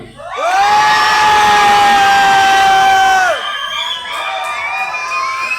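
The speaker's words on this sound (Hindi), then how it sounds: "एक बार बहुत कस के चिल्ला दो" A seminar audience of students in a hall shouts together loudly on request, a sustained, full-throated roar of many voices lasting about three seconds before dropping to a lower, scattered cheering.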